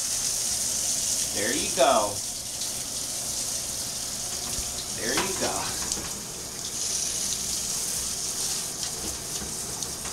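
Tap water runs steadily into a shower as a puppy gets its first wash, a continuous rushing hiss under a person's soothing talk.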